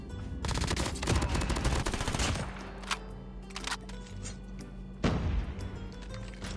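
Bursts of rapid gunfire in Call of Duty Mobile, loud automatic volleys at the start and again near the end, with scattered single shots between.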